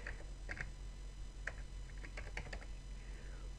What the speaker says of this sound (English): we're going to type in prefetch